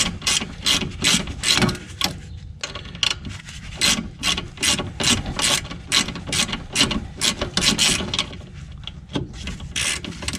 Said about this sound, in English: start ratcheting in the screws